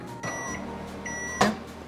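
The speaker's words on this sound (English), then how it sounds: "Pop it in the microwave. We're gonna start that on 1 minute." A microwave oven hums with a steady tone after it is started for popcorn-chip melting, ending in a brief louder clunk, close with no talk.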